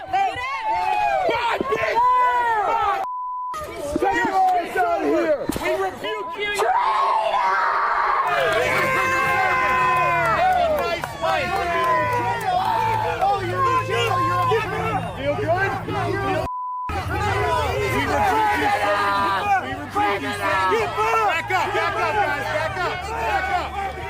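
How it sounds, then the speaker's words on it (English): Crowd noise at a Jan 6 riot, a dense hubbub of many voices with shouts and cheers rising over continuous loud chatter, close and sustained throughout. "The crowd is cheering on the violence."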